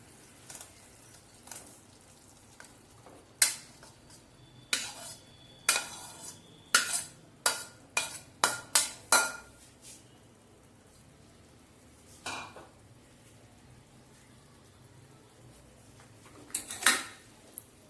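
Cooked rice tipped into a pan and stirred together for pomegranate lemon rice, with a spoon scraping and knocking against the pan in irregular bursts of sharp clinks separated by quiet gaps.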